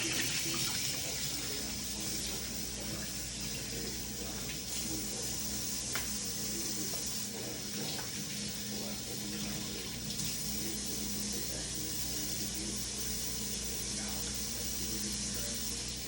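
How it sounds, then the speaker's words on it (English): Water runs steadily from a tap as raw chicken is washed under cold water, a constant rushing hiss with faint clinks and handling sounds underneath throughout. "Wash them in cold water."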